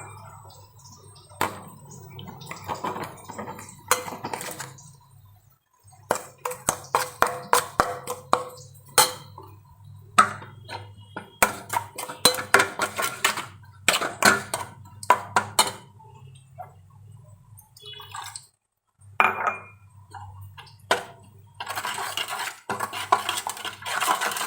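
A spoon clinks and scrapes against a metal or glass bowl while nuts, raisins, spices, sugar and salt are mixed together, in irregular bursts of stirring taps separated by short pauses, close and clear with no talk.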